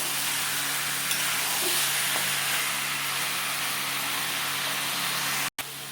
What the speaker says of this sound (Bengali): তোমরা দেখতে পাচ্ছ মাছটা কষানো হয়ে গেছে। আর 2 থেকে 3 মিনিট কষিয়ে আমি জল দিয়ে দেবো।